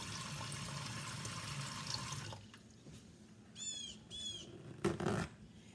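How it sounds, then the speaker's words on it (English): Water runs from a tap with a steady rushing hiss that stops after about two seconds, followed by quieter clinks and a few faint chirps. "I'm just going to let water go into it"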